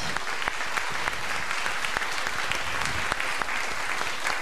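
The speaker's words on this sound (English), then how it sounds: "Another round of applause for Reverend Brent" A congregation at a church service claps for Reverend Brent. The sustained, even applause runs throughout at close range, with no talk over it.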